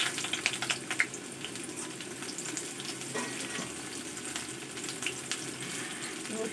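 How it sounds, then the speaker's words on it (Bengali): Chopped onion going into hot mustard oil in a pan, a steady hiss and crackle of frying with faint clinks of stirring throughout. "তেলটা আমার গরম হয়ে গেছে, এবারে দিয়ে দেবো পেঁয়াজ কুচি"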